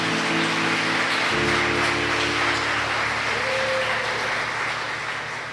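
A church congregation claps loudly and steadily for several seconds, a dense wash of hands that fades slightly toward the end, with a low hum cut off early on.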